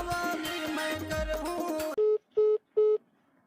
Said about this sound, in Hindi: ये काखर फोन आ जा रहा है आधा रात का